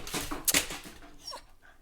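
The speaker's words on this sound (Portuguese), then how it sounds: "Olha o cachorro." A pet dog named Costela whimpering indoors, a few high, strained whines and short yelps bunched in the first second, then fading to softer whimpers at moderate loudness with no talk over them.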